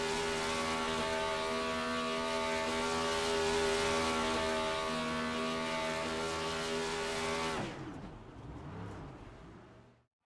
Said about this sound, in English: now they're breaking out into a burnout party